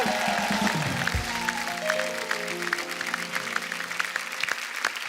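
A TV comedy show's studio audience applauds a renowned musician and his son. The steady, crackling clapping runs throughout while a few held musical notes fade away underneath.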